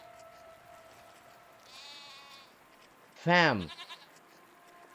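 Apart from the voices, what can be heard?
goat bleating in a video game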